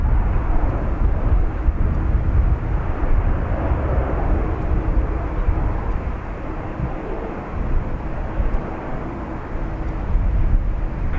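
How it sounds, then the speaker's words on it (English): A jet airliner takes off from runway 28 right at Dublin Airport with a loud, steady, broadband engine roar that continues without a break. "runway 28 right, clear, take off"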